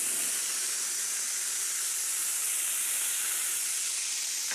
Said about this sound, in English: I just need to put straight away into this hot pan some whiskey.